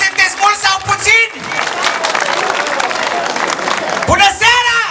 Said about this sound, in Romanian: Vreau să vă aud după aplauze.